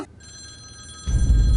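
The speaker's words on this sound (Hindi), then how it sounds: "फोन आ रहा है।" A telephone rings with a steady electronic bell tone held for about a second, then a louder rumbling, muffled noise takes over near the end.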